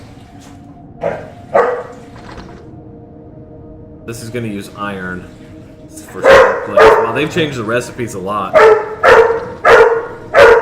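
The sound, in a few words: dog barking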